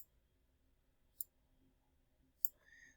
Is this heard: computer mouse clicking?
yes